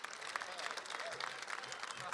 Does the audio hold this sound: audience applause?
yes